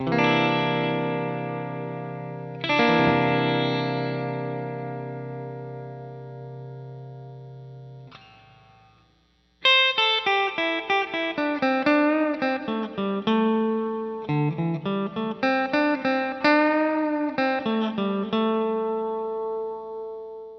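Electric guitar played through a JHS Octave Reverb pedal with the octave switched off and only reverb on: two long ringing strummed chords fade out, then a run of picked notes and chords, each trailing a wash of reverb.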